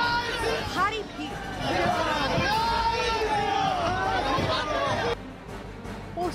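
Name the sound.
large crowd at Suvendu Adhikari's Nandigram roadshow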